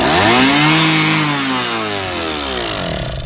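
A 1973 Kawasaki two-stroke motorcycle engine fires up and runs, its loud buzzing note swooping in pitch as the revs climb and fall, then settling into a raspy idle.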